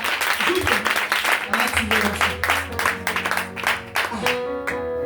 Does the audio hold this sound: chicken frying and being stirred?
no